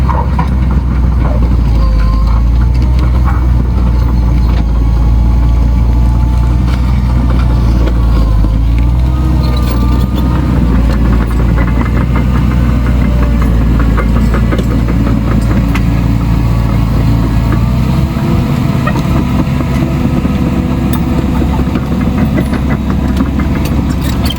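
A heavy digging machine breaks through hardpan while excavating a new pond, its engine droning loud and steady throughout with a low rumbling churn and faint clanks.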